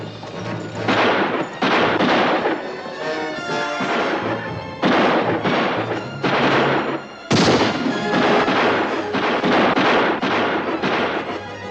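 Gunfire in a Wild West shootout: loud, heavy bursts of shots come in repeated clusters over several seconds, with a sharp close blast partway through, dense and booming with no clear voices.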